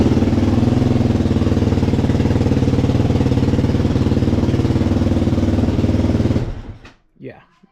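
A YZ250-style dirt bike engine idles loud and steady with a constant rhythmic putter, then cuts off abruptly near the end, leaving quiet with a brief faint sound after.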